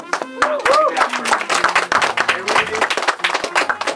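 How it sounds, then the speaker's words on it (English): Scattered clapping from a small audience at a jazz music workshop in Kathmandu, a run of sharp hand claps that carries on steadily beneath people talking over it. "A big applause, I would say."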